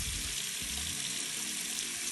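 Tap water pours steadily from a faucet, a continuous broadband rush that stays even and close throughout, with no voices.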